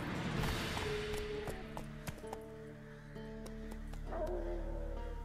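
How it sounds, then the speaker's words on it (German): A wild dog whines and yips in The Witcher 3 over layered game music and ambience, with brief high whimpers breaking through at moderate volume. "Wer jault denn hier schon wieder rum?"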